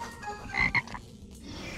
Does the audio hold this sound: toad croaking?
yes